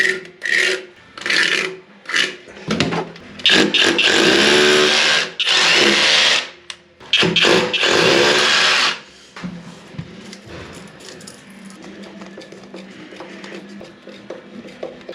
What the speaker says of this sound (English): what I'm going to do is just drill a pilot hole through